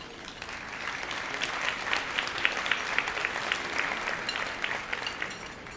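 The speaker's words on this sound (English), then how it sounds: "Would the LifeTouch team please stand for applause?" Steady applause from a large crowd at a gala fills the room, dense and continuous, with no voices standing out.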